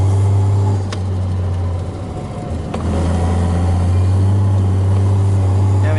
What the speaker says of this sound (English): That turbo sounds nice though.